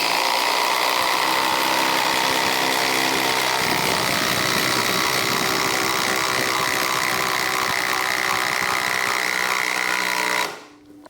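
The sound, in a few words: DeWALT DCF870 oil impact driver running after warming up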